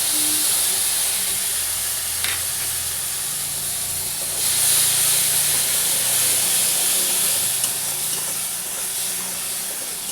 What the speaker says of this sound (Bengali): এবার আমি রসুনের রসটা এতে ঢেলে দিলাম।